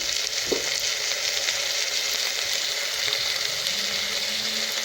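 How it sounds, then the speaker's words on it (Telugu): Soaked moong dal added to onions and green chillies cooking in oil, for a palakura pesarapappu made in a clay pot, giving a steady close sizzle of frying throughout. "పచ్చిమిరపకాయలు ఉల్లిపాయ నూనెలో మగ్గిన తర్వాత నానబెట్టుకున్న పెసరపప్పు వేసుకోవాలి."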